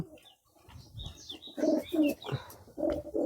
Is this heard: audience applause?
no